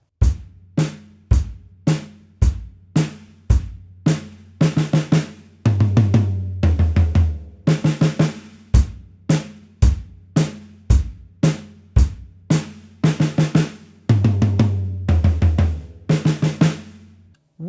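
Drum kit playing two bars of a steady beat, then two bars of single-stroke-four fills moving around the toms, repeating in a clear cycle; close, loud and crisp, with no talking.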